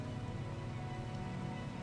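Steady, dense rain falls in a Minecraft world modded with Minecolonies, a constant even wash of drops with no pauses or other sounds.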